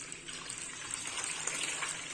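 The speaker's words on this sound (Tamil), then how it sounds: "வாஷ் பண்ணியாச்சு. இப்போ தண்ணி ஊற்றி" Water pours steadily into a pot of washed moong dal set to soak for a millet pongal, making a continuous close gushing splash with no talking.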